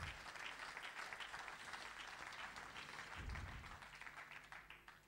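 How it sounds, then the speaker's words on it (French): A church congregation applauds together, a steady dense wash of clapping that holds for about five seconds at moderate level with no talk over it. "Applaudissez le Seigneur."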